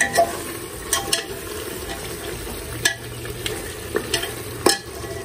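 Meat fries in oil with a soft, constant sizzle, broken by repeated scraping and stirring strokes of a utensil against the pan at irregular intervals, up close, with no one speaking.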